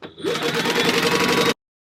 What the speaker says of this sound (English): I'm just an 1/8 of an inch base stitching them together